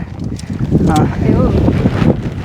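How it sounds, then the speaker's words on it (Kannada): Strong wind buffets the microphone in loud, steady gusts at a forest campsite, with a voice talking briefly underneath. "ಗಾಳಿ ತುಂಬ ಬರ್ತಿದೆ"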